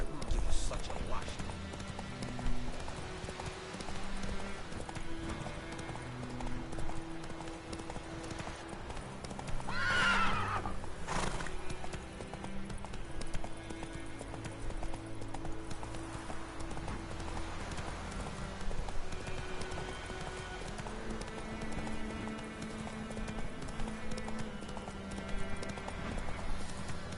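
Hoofbeats of a horse in The Witcher 3 video game clip-clop steadily throughout, and a loud neigh rings out near the middle, over a background of game music.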